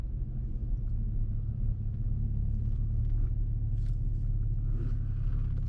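Automatic car driven slowly along a residential road by a first-time learner, a steady low engine and road rumble running throughout with no talk.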